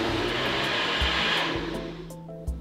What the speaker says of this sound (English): Squish it down, and we're just gonna blend this up.